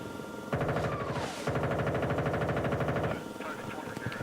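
Rapid bursts of machine gun fire in the video game Battlefield: Bad Company 2, loud and close, in two long rattling volleys with a short break between, fading into quieter echoes.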